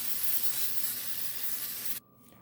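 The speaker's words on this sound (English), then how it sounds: "Yes, I spray the inside." A steady, loud spray of cooking spray inside a turkey roasting bag hisses for about two seconds, then cuts off abruptly, leaving a faint fading hiss.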